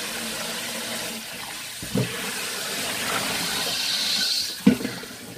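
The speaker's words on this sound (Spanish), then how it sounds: "Vamos a enjuagarlos con agua fría dos o tres veces." Salted cucumbers are rinsed under cold running tap water in a kitchen sink, a steady soft splashing wash with a couple of brief clunks.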